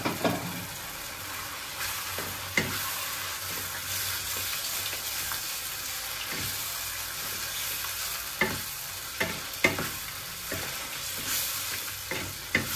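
Paneer cubes frying with boiled spinach in a pan for palak paneer: a continuous oily sizzle with repeated scraping stirs and clinks of a spatula at irregular intervals, close and moderately loud, no talking.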